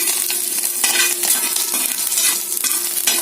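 Basmati rice dish ingredients fry in a pan with a bright, crackling sizzle, stirred with repeated scraping strokes, close and steady.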